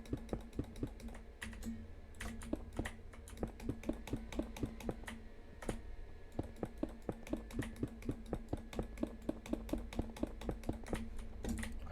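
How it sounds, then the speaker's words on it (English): Rapid, steady clicking of keys or mouse buttons during a Minecraft session, close and crisp, with dense irregular taps continuing for twelve seconds over a faint background hum and no speech. "I time it with like my mouse clicks."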